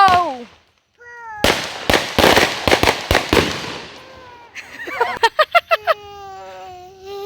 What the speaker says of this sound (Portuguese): Teu pai tá soltando os fogos ali